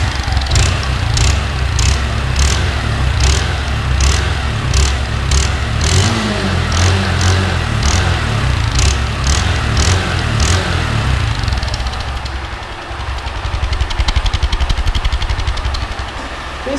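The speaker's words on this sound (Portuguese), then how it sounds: "Fica meio que um assobio no final do escapamento, ó." A 160 motorcycle with a washer fitted in its exhaust outlet runs close by, its engine droning and revving loudly while a faint, high whistle pulses from the tailpipe in a regular beat. The engine dips briefly toward the end, then picks up again.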